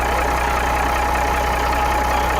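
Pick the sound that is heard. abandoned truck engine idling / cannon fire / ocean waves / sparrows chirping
abandoned truck engine idling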